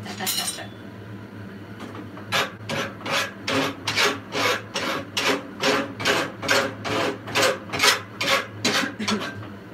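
A metal file rasps steadily while a bottle opener is shaped, with about fifteen rhythmic back-and-forth scraping strokes, close and clear, following a brief scrape at the start.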